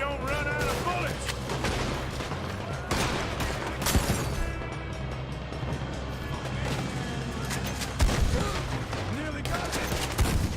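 Dense, chaotic gunfire in Red Dead Redemption 2: repeated shots and bursts with occasional heavier impacts, mixed with voices talking throughout the fight.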